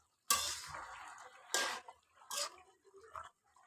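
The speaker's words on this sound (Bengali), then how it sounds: "এবার একটা ডাকনা সাহায্যে ঢেকে দেব" Lid set onto a cooking pot of drumstick (sajna data) curry with fish and potato: a few sharp, close metallic clanks and clatters in separate bursts, with quiet gaps between them.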